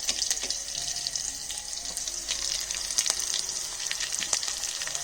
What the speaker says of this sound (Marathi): आई डाळ फोडणी देता गॅसवर